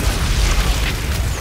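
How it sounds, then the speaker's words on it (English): Grenade blasts in the Outriders shooter game, a dense run of heavy booming low-end bursts that follow one another with no break, loud and close, with no talk over them. "Oh, here we go with the grenades"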